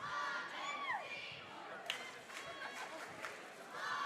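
A high school basketball gym fills with arriving fans for a Coaches vs Cancer varsity game, distant crowd chatter and shoe squeaks carrying through the space at a low, steady level.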